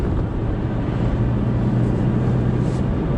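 Aston Martin V8 Vantage with the 4.3-litre V8, a steady rumbling engine and exhaust drone heard while driving, fairly loud and alone.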